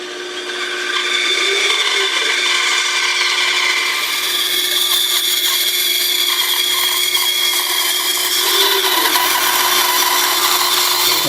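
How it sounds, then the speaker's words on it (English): A bandsaw cuts a wooden pattern for a spearfishing decoy, a steady, close whining blade hum with a continuous rasping bite through the wood for the whole stretch and no talk. "then you go on the bandsaw and cut them out"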